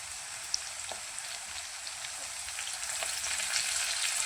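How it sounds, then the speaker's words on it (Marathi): Cut drumstick pods fry in oil for a pulao, a continuous close sizzle that grows slightly louder toward the end, with occasional soft pops and spatters. "हे शेंगा चांगल्या तेलामध्ये फ्राय करून घ्या"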